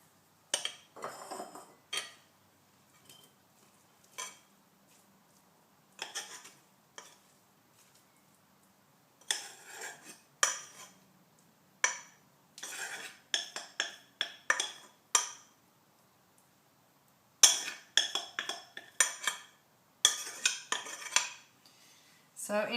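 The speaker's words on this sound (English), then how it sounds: "I'm actually going to tip it into a bowl." Cooked food tipped from a pan into a bowl in a home kitchen, heard as a series of close metallic scrapes, clinks and clatters of utensil against pot and dish, coming in irregular bursts separated by quiet pauses.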